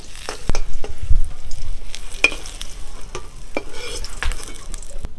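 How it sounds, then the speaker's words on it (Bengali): Pieces of pointed gourd (parwal) are lightly fried in oil, making a close sizzle broken by repeated sharp clicks and scrapes of a utensil turning them in the pan, with no voices. "তো পটলগুলো আমি হালকা হালকা করে ভেজে নেব, একদম পুরোপুরি ভাজার দরকার নেই, একটু হালকা করে ভেজে নেব।"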